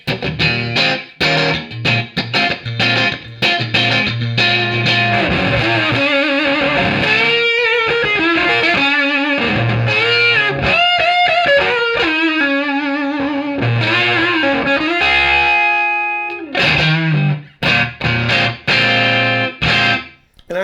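Electric guitar played through a Fuzz Face fuzz pedal, loud and distorted with sustained chords and bent lead lines, the fuzz cleaning up in places as the guitar volume is rolled back, with brief choppy stops near the end.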